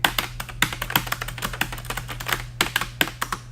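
Rapid clacky keystrokes on a retro mechanical keyboard, close and crisp, tapping in an uneven quick rhythm with no voices.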